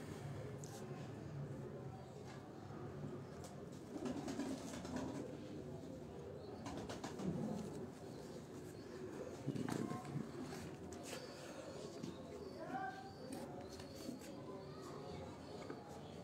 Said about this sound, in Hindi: इसी तरह ये एक कबूतर है, ये भी मियाँ वाली से आया हुआ लगता है कबूतर